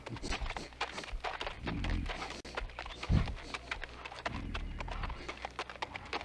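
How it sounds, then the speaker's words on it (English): Heavy hooves of a big black horse carrying a cloaked rider clip-clop steadily closer, thudding over continuous background sound, with a brief snort-like burst partway through. "It's a big black horse, and a rider in a great black cloak and hood."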